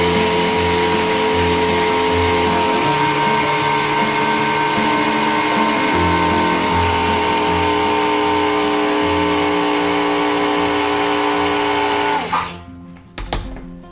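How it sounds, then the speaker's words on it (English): An electric spice grinder whirs steadily and loudly for about twelve seconds as it grinds yellow mustard seeds, then winds down and stops with a couple of clicks. "you wanna start by taking your spice grinder, and you wanna grind up some of your seeds"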